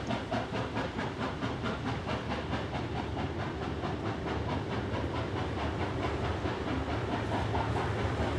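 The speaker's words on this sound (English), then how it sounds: "The 36 class loco is seen climbing through Valley Heights." A 36 class steam locomotive climbs a steep grade through Valley Heights in the Blue Mountains, its loud, rhythmic exhaust chuffs and rumbling wheels pounding steadily and close by, with no voices.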